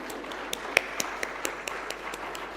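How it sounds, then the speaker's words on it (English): Audience at a deep tech innovation conference clapping, a sparse, faint scattering of separate claps rather than a full ovation. "maybe we could start with a resounding round of applause just to wake us all up"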